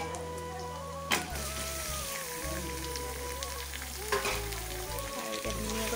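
Meat sizzles steadily in a hot pan after ginger and garlic have been fried, making a constant close hiss. A few louder bursts come through when the pieces are moved or stirred.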